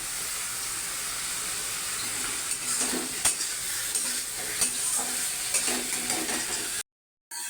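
A fish head fries in spice paste in a pan, sizzling loudly and hissing with steam while a spoon stirs and scrapes in irregular bursts; it stops abruptly near the end.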